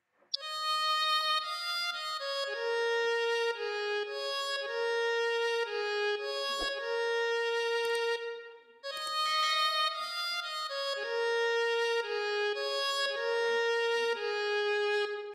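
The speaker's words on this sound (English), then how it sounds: "This violin instrument is gradually becoming one of my favorite violin sounds." Sampled violin melody from the STR Violin NUC preset in Morphin, a bright sustained solo line of connected legato notes playing alone for two phrases with a short break between them.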